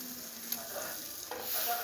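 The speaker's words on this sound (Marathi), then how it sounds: "इथे आता आपण पाव भाजून घेऊया." Pav bread rolls toasting on a hot pan give a soft, steady sizzle with a couple of faint scraping touches, close and alone, swelling slightly near the end.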